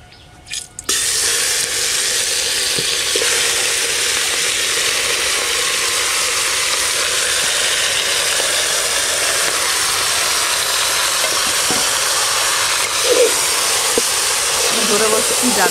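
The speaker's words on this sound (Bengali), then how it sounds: "ফোড়নে দেবো গোটা গরম মশলা, তেজপাতা, শুকনো লঙ্কা। মশলা মাখানো খাসির মাংসটা দিয়ে দেবো।" Spiced marinated mutton frying in a pressure cooker with whole garam masala, bay leaf and dried chili, a loud steady hiss and sizzle that starts abruptly after a brief quiet moment and carries on unbroken with faint clinks.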